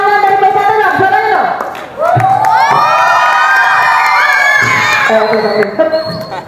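Cheering and shouting from PSHT martial-arts members at a gathering of four schools, a loud sustained crowd roar with whoops and children's shouts, alongside voices.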